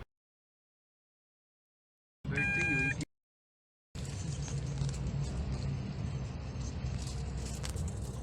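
A 2022 Chery Tiggo 2 Pro gives a short electronic chime, then steady road and engine noise rolls on evenly while driving, a low broad interior hum with no talk.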